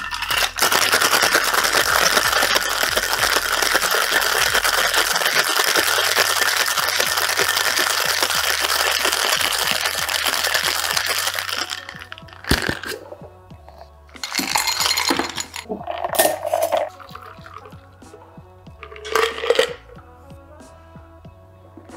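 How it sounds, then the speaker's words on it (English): Cocktail shaker packed with ice shaken hard for about twelve seconds, a loud continuous rattling clatter, followed by a few shorter separate bursts of clinking and handling sounds. "Add ice to the shaker, then proceed to shake for 10 to 12 seconds."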